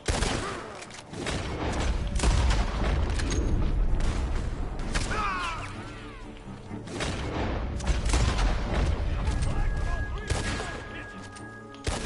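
Rapid bursts of gunfire in a Red Dead Redemption 2 story-mode shootout, loud and near, with dense volleys and booms running throughout while people talk over the fighting.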